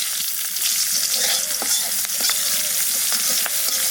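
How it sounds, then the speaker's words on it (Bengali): Cumin and radhuni seeds hit hot oil with a few green chilies, giving a steady, close sizzle with stirring scrapes and small crackling pops throughout. "তেলের পর দিয়ে দেবো জিরে আর রাঁধুনি, আর দেবো কটা কাঁচা লঙ্কা।"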